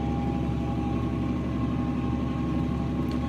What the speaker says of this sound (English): Because that tractor at full throttle sounds quiet.